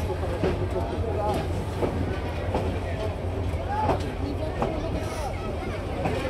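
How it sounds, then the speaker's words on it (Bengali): Kishorganj Express intercity train at Kishorganj station, with a low, steady rumble and occasional clanks under a murmur of station crowd noise, moderately faint. "কেবল কিশোরগঞ্জ এসে পৌঁছালো আন্তনগর কিশোরগঞ্জ এক্সপ্রেস"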